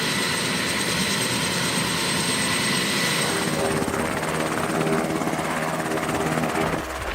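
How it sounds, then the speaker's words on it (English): A Black Hawk helicopter's engines run loud and steady during its first run-up outside a hangar, a dense continuous turbine roar with rotor throb that holds without a break. "take it outside the hangar and start it up to see what's going on with the engines, the transmission"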